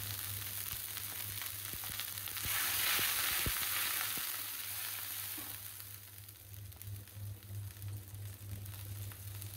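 Spices frying with salt, garlic paste, turmeric and chili powder in a pan for a Bengali sidol shutki dish with Malabar spinach greens and vegetables, a steady close sizzle with scattered scraping stirs and clicks, no voices.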